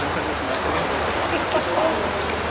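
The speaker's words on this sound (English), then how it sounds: "Oh my god, it's only a little bit of rain." Light rain falls outdoors as a steady, soft hiss of patter that holds at an even level from start to finish.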